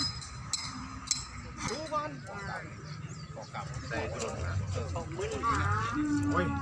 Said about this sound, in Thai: เบิ่งควายผูตัวนี้ก่อนพี่น้อง